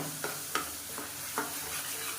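Vegetables for a potato side dish sautéing in a pan, a continuous sizzle broken by a few sharp scraping strokes of a spoon stirring, close and without speech.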